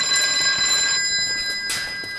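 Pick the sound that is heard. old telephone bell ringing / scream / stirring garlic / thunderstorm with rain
old telephone bell ringing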